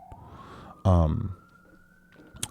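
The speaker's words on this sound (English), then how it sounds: "I know you can probably hear those sirens." A New York City siren wails steadily in the distance as a long rising and falling tone, with a brief loud burst of voice partway through.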